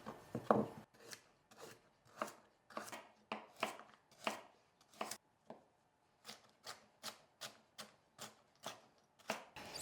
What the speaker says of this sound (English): So while Malin is cutting the carrots